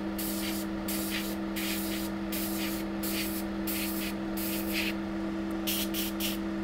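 A cleaning spray is sprayed in rapid repeated bursts onto a MacBook A1286 logic board, short hissing puffs over a constant electrical hum.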